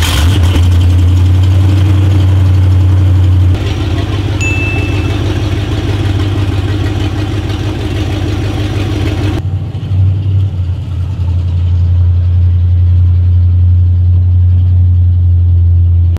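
1994 Ford F150 truck engine running after a torque converter install, loud steady low idle drone close by with a shift in tone partway through, no talking.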